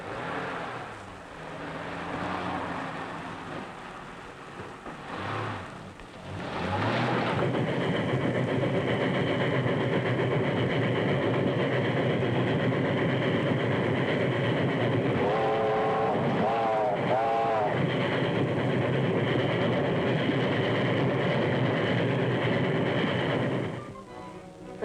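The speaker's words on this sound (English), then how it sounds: "That's the train." A train passes in a 1937 film, a heavy sustained rumble that swells and holds for a long stretch, with brief wavering whistle-like tones midway before the noise drops away at the end.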